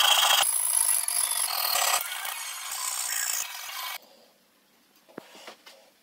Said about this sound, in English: Now that the holes are drilled, it's time to turn them into slots.